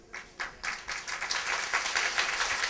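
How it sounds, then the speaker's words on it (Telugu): A church congregation claps along in praise of the Lord, building from scattered claps into fuller, steady applause that carries through the short stretch, with no voices over it. "If you feel like to clap your hands and praise the Lord."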